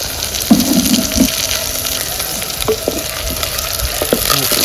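Large onions frying and being stirred in a pan for chicken curry: a loud, continuous sizzle with scraping and tapping of the spoon against the pan at scattered moments.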